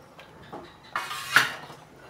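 A few light metallic clinks and scrapes from stirring chickpeas in a pot and setting a lid on, brief and close, the last knock the sharpest.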